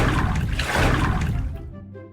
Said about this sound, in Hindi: मेरे को यहाँ पे एक पानी दिखा है, मतलब एक पानी नहीं एक झरना दिखा है।